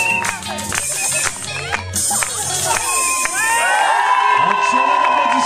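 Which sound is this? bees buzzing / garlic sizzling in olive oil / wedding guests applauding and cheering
wedding guests applauding and cheering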